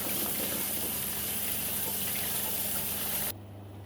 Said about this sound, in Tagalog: Hugasan din natin yung ating sibuyas bago natin hiwain.